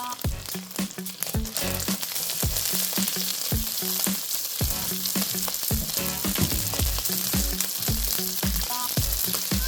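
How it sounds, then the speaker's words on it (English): Phad Thai noodles stir-fried in a hot pan, Bangkok street style, a loud continuous sizzle broken by rapid, rhythmic scraping and tossing strokes of the utensil, close up and without talk. "Once again, we're going to quickly stir it up."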